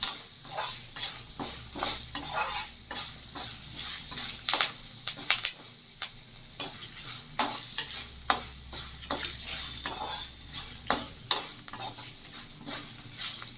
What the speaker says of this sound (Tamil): ஒரு தடவை நல்லா கலந்து விட்டுக்கலாம்